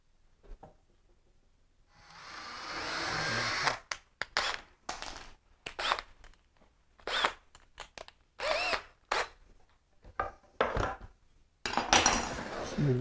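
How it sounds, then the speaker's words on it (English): A power drill bores a pilot hole into a DIY concrete sink mould in short repeated bursts, each whirring burst broken by pauses, close and fairly loud, with clattering handling between runs. "Drill the pilot hole."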